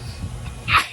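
A single sharp sneeze bursts out near the end of a short, otherwise quiet moment, loud and close with a breathy hiss.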